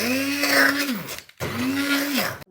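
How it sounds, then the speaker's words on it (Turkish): A kitchen blender purees boiled spinach in two short runs, each motor whir spinning up, holding a steady loud hum, then winding down to a stop. "Evet haşlanan ıspanağımızı blenderımızla püre haline getirelim."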